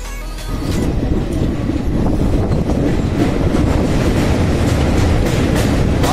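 A passenger train rumbles loudly across the Ramganga bridge between Moradabad and Bareilly, a heavy continuous roar with rhythmic clattering of wheels and wind buffeting the microphone, close and sustained.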